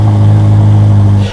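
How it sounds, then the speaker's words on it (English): A Ferrari SF90 supercar's 4-liter twin-turbo engine starting up, a loud, close, steady low engine roar that holds throughout the short moment. "Then that 4-liter twin turbocharged engine will jump up into life."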